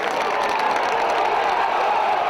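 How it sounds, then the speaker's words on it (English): A big rugby league crowd roars for Wakefield in a 2010 Wakefield versus Leeds match, a loud, dense, sustained wall of cheering and shouting with no break. "Listen to the roar from the Wakefield crowd."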